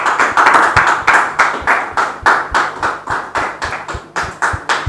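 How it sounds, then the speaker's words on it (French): An audience applauds in steady rhythmic clapping, loud and close, the hands beating together in a regular pulse throughout. "On les reçoit sous vos applaudissements"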